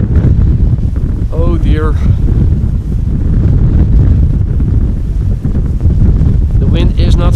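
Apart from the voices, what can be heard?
strong crosswind at Amsterdam Schiphol Airport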